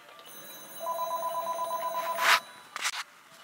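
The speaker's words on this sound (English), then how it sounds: "phone is just ringing" Video game telephone ringing in Harvest Moon DS, a rapid electronic trilling ring lasting about a second and a half, followed by a couple of brief bright chime-like bursts, clear and close without talking.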